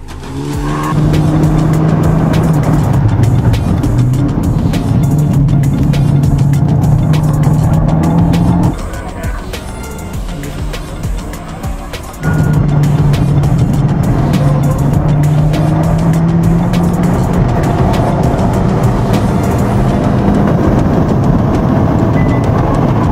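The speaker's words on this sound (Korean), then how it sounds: "이제는 연속 코너 주행도 흔들림 없이 안정적으로 달린다." A scrapped car races through a series of corners in a junk-car race, its engine roaring loud and close with tire squeal, briefly dropping off mid-run before surging back at full volume.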